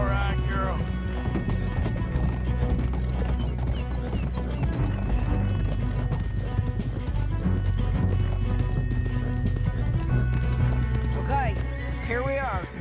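Horses galloping in the video game Red Dead Redemption 2, a steady rapid hoof rhythm under a continuous game score, with an occasional whinny and people talking at times over the ride.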